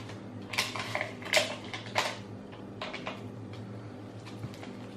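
Flour and baking powder being mixed in a bowl for cinnamon cookies, a cluster of scraping, clinking utensil strokes against the bowl early on, then quieter scattered taps over a low hum.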